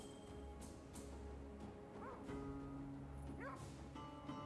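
A pet dog in the video game Path of Exile gives a few short yips and whimpers over a steady bed of game music and ambience.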